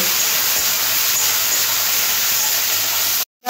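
Cut potatoes with salt and a little turmeric frying in a pan, a steady loud sizzling hiss that runs continuously, then cuts off abruptly near the end.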